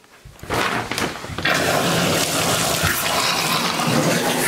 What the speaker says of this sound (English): So first let me take a shower